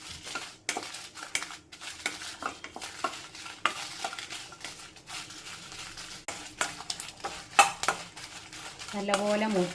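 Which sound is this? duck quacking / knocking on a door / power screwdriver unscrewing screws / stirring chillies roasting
stirring chillies roasting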